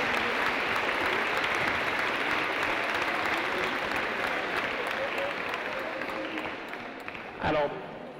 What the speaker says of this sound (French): Bravo, vous avez gagné ce reportage, on peut les applaudir